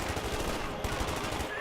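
Sustained small-arms fire as Grenadier and Thompson infantry squads trade shots in the World War II strategy game Company of Heroes 2, a continuous crackle of rifle and submachine-gun bursts at moderate level with no talk.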